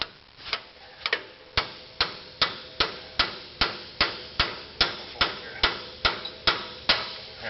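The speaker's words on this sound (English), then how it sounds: "These things are taking a significant amount of whacking to get loose." A hammer whacks a tie rod end on a 1989 Toyota 4Runner front end in a steady series of about fourteen sharp metallic strikes, one roughly every half second, close and loud.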